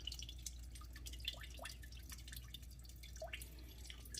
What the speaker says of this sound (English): That sound is me draining the radiator.